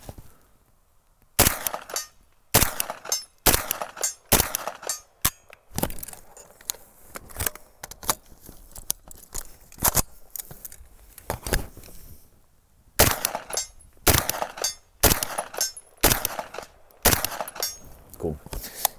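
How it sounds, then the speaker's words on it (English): A KP9 Vityaz pistol-caliber carbine fires at steel silhouette targets outdoors: sharp single shots and quick strings of reports, separated by short pauses, with some talk between the shots. "We're gonna take some shots on a steel silhouette and we're gonna see how it does."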